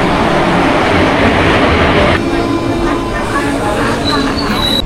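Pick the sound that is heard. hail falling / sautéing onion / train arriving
train arriving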